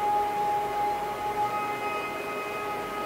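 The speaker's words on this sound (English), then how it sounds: "Is the name is the Scary String Sus." A sustained Scary String Sus patch from Spitfire Audio Labs, an eerie held string texture with a thin high tone running steadily throughout, moderately quiet and alone.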